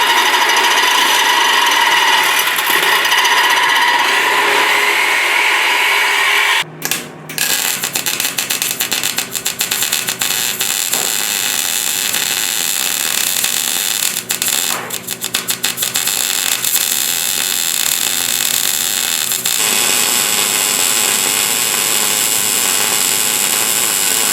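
A power tool cuts with a hacksaw-style blade while work is under way on an Oldsmobile small-block engine, giving a loud, continuous harsh buzzing grind with a brief break and slight changes in pitch throughout.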